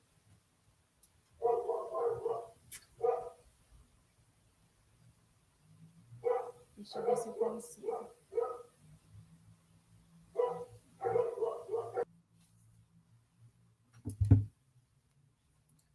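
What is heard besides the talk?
dogs barking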